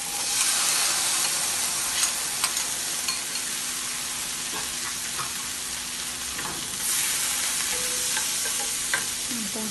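Onion frying in a pan for a white-sauce farfalle pasta, a steady close sizzle with occasional stirring scrapes and clicks, continuous throughout with no talking.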